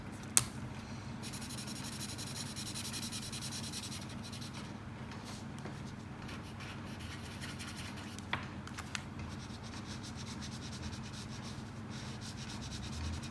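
A brown colored pencil shades a drawing of Lotso from Toy Story 4, giving a continuous soft scratchy rubbing on paper that stays close and steady with only small pauses throughout.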